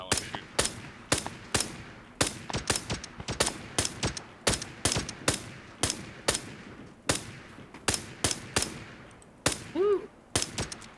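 Gunfire in PUBG on a foggy map, a long run of sharp, loud shots in irregular bursts and single cracks, some rapid and clustered, with a brief rising tone near the end.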